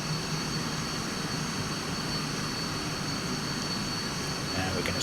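SEPECAT Jaguar jet engines idling after a cold start in Microsoft Flight Simulator: a steady, even turbine roar and hiss with a faint high whine, constant and unchanging throughout.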